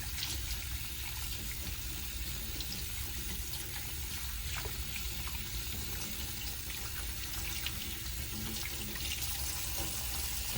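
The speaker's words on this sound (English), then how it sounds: "what we want to do now is just want to rinse off" Steady running tap water pours continuously as hands are rinsed under it at a sink, a constant broadband hiss with no talk.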